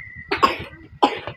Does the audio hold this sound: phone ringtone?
no